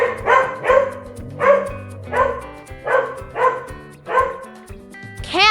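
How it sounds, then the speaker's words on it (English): A dog barks about six times in a steady rhythm, each bark loud and close, with light music playing underneath and a brief rising synth swoop at the end. "Dog."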